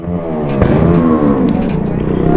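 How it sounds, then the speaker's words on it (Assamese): Motorcycles with their silencers removed rev loudly on an Independence Day group ride, a dense, continuous engine roar with rising and falling pitch throughout and no talk over it. "আজি কি কি চাউণ্ড শুনিব পাইছোঁ নহয় গোটেই চাইলেঞ্চাৰ ওলাই বাইক চলাই আছে মানুহবোৰ"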